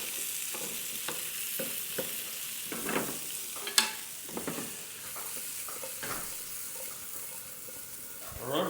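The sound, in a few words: potatoes frying and browning in an oiled pan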